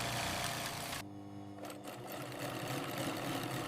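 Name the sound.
industrial sewing machine stitching jersey panels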